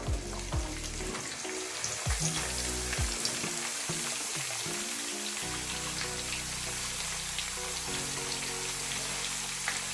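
Sliced onion dropped onto frying ginger and garlic in a pan for fried rice, giving a steady, loud sizzle with scattered crackles and occasional stirring scrapes, no talking.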